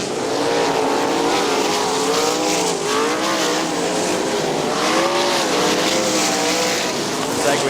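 Outlaw sprint cars roar around a dirt oval at Winston Motor Speedway, several engines at once with pitch rising and falling as they pass, loud and continuous throughout.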